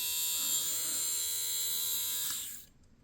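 A 1969 National Key Poppet (Panasonic) cordless electric shaver runs with a close, steady high-pitched buzz for over two seconds, then winds down and stops.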